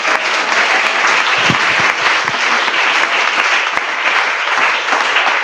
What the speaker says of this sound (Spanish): Denle un aplauso a los que son cristianos.